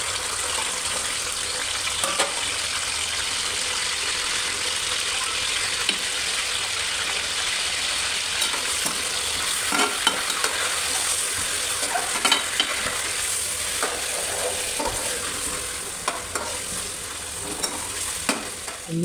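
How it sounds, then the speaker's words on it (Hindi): Chicken fries in oil in a pan for a Pakistani chicken korma, a steady loud sizzle with scattered pops and the occasional stirring scrape, no voices. "अपनी चिकन को अच्छी तरह फ्राई करना है"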